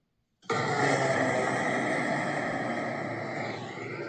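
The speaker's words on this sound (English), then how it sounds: "That's the sound of the Ram Air turbine being deployed." Ram air turbine deploying on a Boeing 787 during a crash, a sudden loud broadband whooshing roar that starts abruptly and holds steady with a faint tonal whine, slowly easing off.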